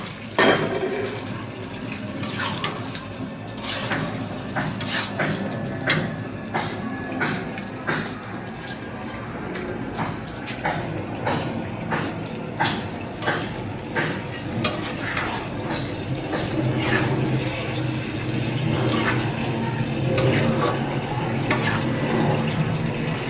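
Chicken pieces go into spice paste in a pan and are stirred, producing repeated scraping and clinking strokes over a soft sizzle, close and steady for the whole stretch.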